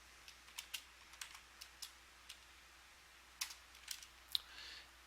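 Quiet, scattered keystrokes on a computer keyboard, irregular light clicks with short pauses and a small cluster near the end, heard alone against a faint background hum.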